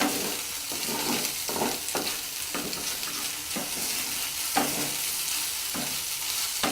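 Crispy rice fare being stirred with fresh coriander in a pan, a steady sizzle broken by regular scraping strokes of the spoon roughly every half second, close and continuous.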